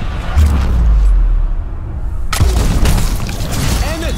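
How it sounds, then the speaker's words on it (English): A devastating explosion in the turn-based tactical video game Showgunners, a deep booming blast with low rumble, followed by a second burst of crackling debris and lingering noise, loud and up close. "A devastating explosion!"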